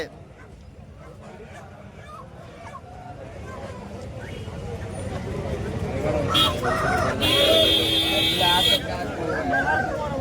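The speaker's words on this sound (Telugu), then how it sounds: "కోడి పుంజులు పెట్టలు" Roosters and hens crow and cluck at a busy hen market in Kothagudem, with several overlapping calls amid crowd murmur and people talking nearby; a sharp buzzing tone briefly cuts through near the end.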